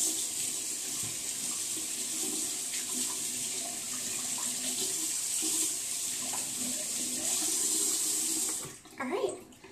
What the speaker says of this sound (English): Just rinse until like the water is clear and you can't see any bubbles.